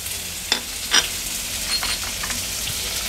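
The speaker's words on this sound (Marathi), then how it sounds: "कांदा परतून घेते तेलावर मी आणि गॅसची फ्लेम लो करून कांदा छान शिजवून घ्यायचा आहे आपल्याला।" Finely chopped onion sizzling in hot oil in a pan on a low gas flame, a steady close fry with a few scraping stirs near the beginning and no talking.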